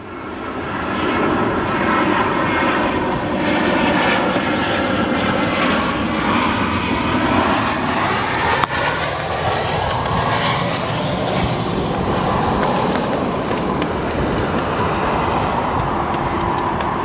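A United Boeing 737-700 airliner touches down at Chicago O'Hare, its engines roaring steadily and loudly throughout the landing roll, with no voices.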